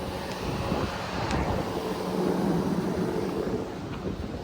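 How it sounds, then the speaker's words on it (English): Steady wind at a lake campsite rumbles and buffets against the microphone, a low continuous roar that swells slightly in the middle, with no talking. "It's a little windy right now."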